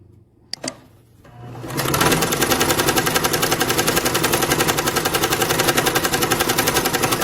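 A Janome sewing machine running a straight stitch, starting after a couple of clicks and settling into a fast, even, rattling mechanical rhythm that continues loudly and close to the end.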